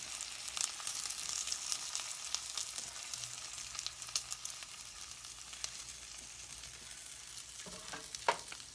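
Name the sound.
bacon frying in a pan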